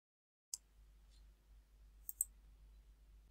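A few crisp computer mouse clicks, one single and then a quick pair, close and quiet over a faint low hum.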